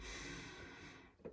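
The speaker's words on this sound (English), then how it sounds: "Breathing in through your nose" A slow, steady breath drawn in through the nose during a breathing exercise for musicians, a soft continuous airy hiss close to the mic that trails off, ending in a brief louder sniff.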